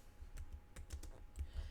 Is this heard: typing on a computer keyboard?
yes